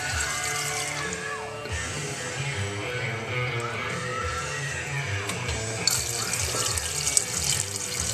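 Water runs continuously through a gold panning system, a steady splashing flow like a running tap with occasional louder splashes and sloshing.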